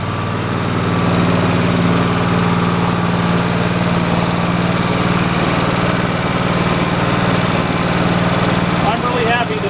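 A small Briggs and Stratton engine runs steadily and loudly up close, a constant buzzing drone with a rapid even firing rhythm and slight vibration throughout.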